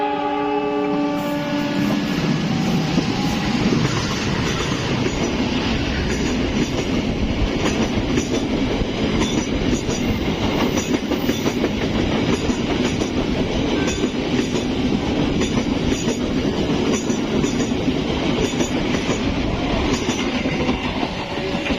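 A train rumbles past at a station crossing, a continuous loud clatter of wheels and carriages with a brief horn-like tone at the start, sustained and close throughout.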